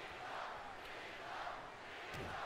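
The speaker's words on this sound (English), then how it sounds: "Crowd chanting for Cena." Video game wrestling crowd in WWE 2K19 keeps up a steady, loud chant for John Cena, a dense continuous roar with rhythmic swells and no talk over it.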